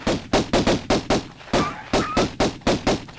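Rapid pistol fire in the MS-DOS Tomb Raider game, a steady stream of about a dozen sharp, close shots, sometimes in quick pairs, with a brief gap midway.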